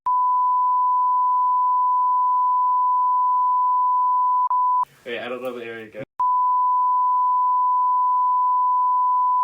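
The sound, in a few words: censor bleep tones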